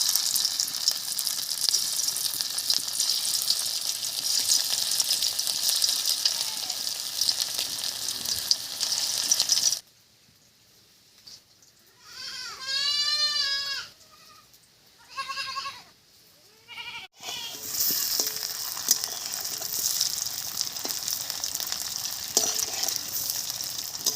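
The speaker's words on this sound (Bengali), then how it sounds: "তেল গরম হয়ে গেছে, এবারে ছোট্ট ছোট্ট করে পকোড়াগুলো ভেজে নেব।" Small fish pakoras frying in hot white oil give a loud, steady sizzle that stops for a few seconds while a bleating animal calls in short bursts, then resumes just as strongly.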